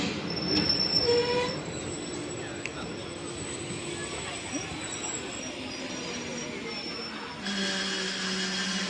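A crowded passenger train runs along the rails with a steady rolling rumble and sharp, sustained wheel squeals rising and fading, while low voices come and go underneath.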